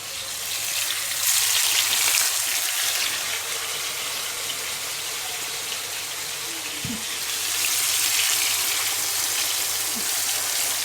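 Pieces of rested meat fry in a pan for a Turkish meat sauté, a steady broadband sizzle with crackle running throughout, fairly close and with no talking.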